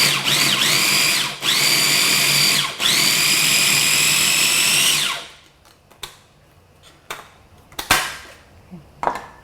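An electric chopper whirs loudly while chopping scallions, running in three long bursts with brief pauses, then stopping and giving way to scattered clinks and kitchen handling noises.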